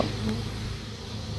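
A dense, steady buzz from a honeybee swarm on a tree trunk fills the short moment, close and even, like many bees humming together.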